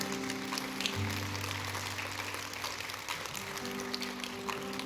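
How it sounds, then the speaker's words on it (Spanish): Applause from a congregation during a church service fills the space, a steady broadband patter of many hands sustained without a break, with faint organ or keyboard tones holding underneath. "Denle un fuerte aplauso al Señor."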